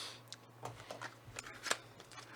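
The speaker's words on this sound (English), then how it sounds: "first thing you do is you shuffle your deck" A deck of Magic the Gathering cards being shuffled, giving quiet, repeated riffling and flicking bursts in an irregular rhythm over about two seconds, fairly faint and close, with no voices.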